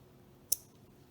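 A single sharp snip as scissors cut a spiked bracelet piece in half, one brief crisp click in an otherwise quiet room.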